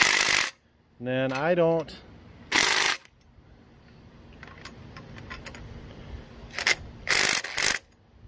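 A DeWalt power tool driving engine mount bolts into an LS engine block on an engine stand, heard as several loud bursts of whirring and rattling, with someone talking briefly between them.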